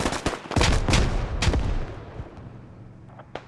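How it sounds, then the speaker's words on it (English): Several grenades explode in a video-game firefight at Kamdesh between insurgents and militia, with heavy booming blasts and gunfire cracks close together over the first two seconds before a rumbling decay. "Grenades. Multiple grenades coming out."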